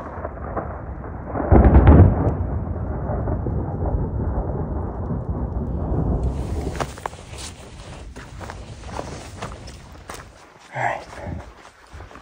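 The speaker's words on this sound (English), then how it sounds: "Alright, well, just waiting out a thunderstorm." Thunder rumbles through a mountain thunderstorm with rain, a loud, deep roll building early, then steady rain patter and scattered hits on a surface, with faint movement nearby.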